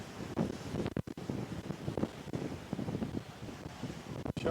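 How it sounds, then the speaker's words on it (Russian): Strong storm wind gusting along the Yalta seafront in Crimea on a February evening, roaring and buffeting the microphone steadily throughout, with possible surf beneath and no talking. "Ветруган так ветруган."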